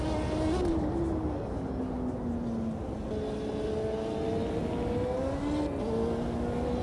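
A 1986 Formula One turbo car engine in a racing video game mod revs and drones steadily, its pitch sliding down and climbing again through gear changes, loud and close with a gritty turbo whine throughout.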